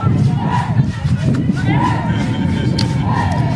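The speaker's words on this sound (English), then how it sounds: "You can see the Zimbabwean girls there cheering for their..." Zimbabwean girls in the crowd cheer at a Botswana versus Zimbabwe football match, a steady roar of voices with rising shouts, sustained and fairly loud throughout.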